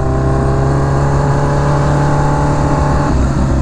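Kawasaki Ninja H2R motorcycle running hot, its engine giving a loud, close, steady droning hum that holds nearly constant before a slight shift near the end.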